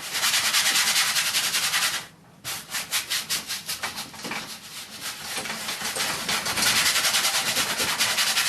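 Brush scrubbing oil paint onto a pre-primed canvas for a wet-on-wet castle landscape: steady, close, rasping back-and-forth bristle strokes, pausing briefly once before the rhythmic scrubbing resumes.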